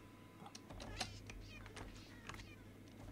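Several short cat meows from Minecraft come and go over a low steady hum, with light clicking like keyboard typing between them.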